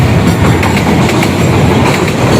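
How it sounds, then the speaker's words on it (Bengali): Bangladesh's largest container freight train passes close by, a loud, continuous rumble with rhythmic clickety-clack of wheels over rail joints. "বাংলাদেশের সবচেয়ে বড় কন্টেনারবাহী ট্রেন এখন যাচ্ছে আমার সামনে দিয়ে, হুইসাল দিয়ে দিয়ে যাচ্ছে"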